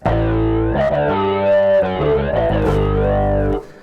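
A heavily distorted bass from Mike Gordon's Phish bass rig plays a short gritty phrase, buzzing and harmonically rich, loud and alone before cutting off.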